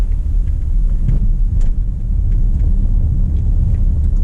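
Nissan X-Trail e-Power rolling over a speed bump without braking, a steady low road rumble with a soft thump partway through, heard from inside the cabin.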